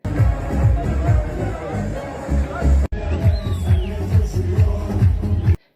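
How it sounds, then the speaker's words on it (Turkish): Galatasaray supporters celebrating a championship in a street square at night, a dense crowd of voices chanting and singing together in a loud, continuous rhythmic roar, with a brief break partway through. "Tezahürat ve marşlarla gecenin sessizliğini bozan sarı kırmızılı taraftarlar"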